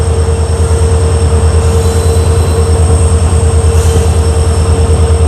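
Diesel-hauled train arriving at Kabakaputtur railway station, a loud steady engine drone with rhythmic wheel beats and a thin high whine, heard continuously without talk.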